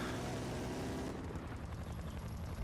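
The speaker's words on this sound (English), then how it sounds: "they weren't getting out of the helicopter" A Blackhawk helicopter in the video game Battlefield Bad Company 2 gives off a steady, loud, close rotor and engine roar, heard alone with no talking.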